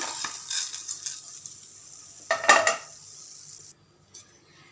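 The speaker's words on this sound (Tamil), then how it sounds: "ஆஃப் பண்ணிவிட்டு இது ஒரு பிளேட்டுக்கு மாற்றி ஆற வச்சிடலாம்." Roasted masala scraped and tipped from a pan onto a plate, with a few close metallic scrapes and clinks and one louder rattle before it falls quiet.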